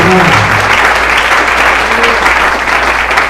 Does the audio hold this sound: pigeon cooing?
no